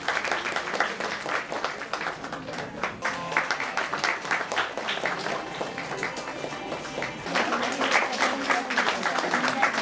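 An audience at a village ward ceremony honouring local achievers claps steadily for several seconds, a dense, continuous patter of many hands that swells toward the end, with a voice speaking over it.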